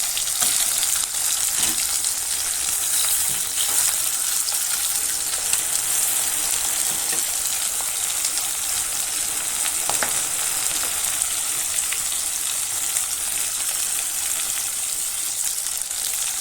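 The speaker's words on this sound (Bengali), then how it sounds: "মাছগুলোকে আমি কড়াই মধ্যে দিয়ে ভেজে নিয়েছি" Bhetki fish fry in mustard oil in a kadai with a steady, even hiss of bubbling oil, close and continuous, with faint occasional ticks and no voices.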